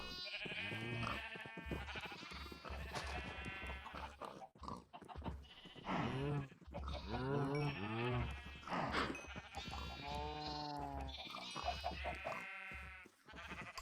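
Sheep in the Minecraft video game give repeated bleats mixed into near-continuous talking, with the animal calls fairly close and recurring through the stretch.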